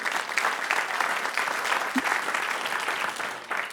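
A crowd at a live soul music performance in a radio station forum claps steadily, the dense applause holding at an even level throughout with a brief isolated thump partway through.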